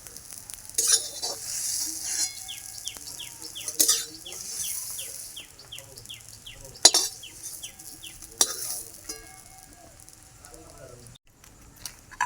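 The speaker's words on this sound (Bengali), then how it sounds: "মশলাটা ভাজা ভাজা হয়ে গেলে নামিয়ে নিতে হবে" A spice mix fries in a pan with a soft sizzle, and a utensil stirs and scrapes against the pan in a steady rhythm of repeated clinks, close up in a home kitchen.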